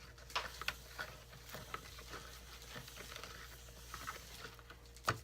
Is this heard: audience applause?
no